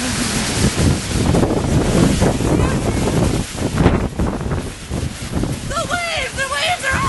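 Tropical storm wind gusting across Junction Pond in Whitbourne, Newfoundland, with waves slapping, a loud roaring buffet on the microphone, and a person speaking over it.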